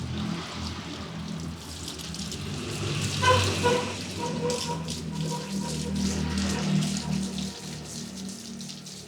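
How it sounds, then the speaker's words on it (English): Steady hiss of water spraying from a hose at normal pressure onto a motorcycle, continuous and fairly close, with splashing texture and no talking. "So just use pipe water where, see, normal force, normal pressure."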